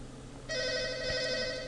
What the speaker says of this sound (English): You can hear the phone in the background